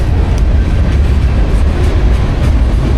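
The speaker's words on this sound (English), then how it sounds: "now train's coming through." A train rumbles past close by at the abandoned City Branch line in Philadelphia, with a steady heavy low roar and faint rhythmic rail clatter throughout.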